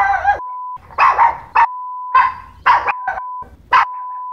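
Repeated sharp barks from a small Chihuahua, loud and close, arriving in short bursts with brief pauses between them and no talking.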